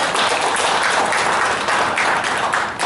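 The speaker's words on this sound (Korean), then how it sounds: "큰 박수를 부탁합니다" An audience at a New Year greeting ceremony in a wedding hall claps together in a sustained, fairly loud burst of applause, dense and even with no voices rising above it.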